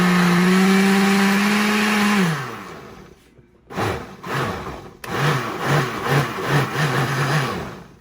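A blender whirs loudly with a steady motor drone while blending a thick mixture, cuts out briefly, then restarts and runs in pulsing, churning bursts.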